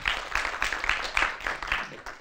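Audience applause at a J-Fall 2016 tech conference, a room full of people clapping in quick, uneven bursts that hold at a steady moderate level for a couple of seconds.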